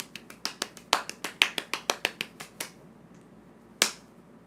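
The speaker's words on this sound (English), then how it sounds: "here's a golf clap for you." A light, polite golf clap: about fourteen quick, crisp claps in an even patter, a short pause, then one last clap, close and dry with nothing else around them.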